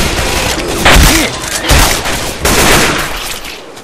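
Loud, close gunfire from the video game Left 4 Dead 2, a run of heavy blasts and bursts that fill the clip with dense, booming shots.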